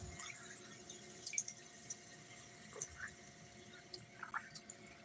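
A drinking water fountain in Haig Mill Lake Park, Dalton, Georgia, left running, gives a faint steady trickle with small irregular drips and splashes over quiet outdoor background.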